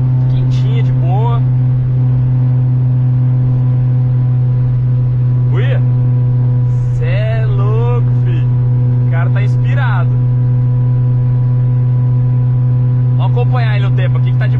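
Car engine holding a steady cruise on a Brazilian highway with the throttle barely touched, a constant low drone with a strong hum throughout; someone talks over it now and then.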